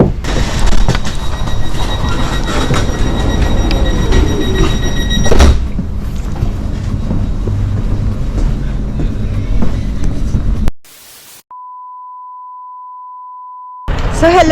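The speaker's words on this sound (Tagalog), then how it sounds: "Ayan na yung train." A train pulling in at a station in Finland and then riding, with a steady rumble, brief beeps and wheel noise, then a short stretch of near-silence broken by a long steady tone.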